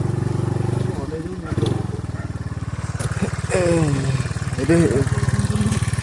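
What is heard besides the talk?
motorcycle engine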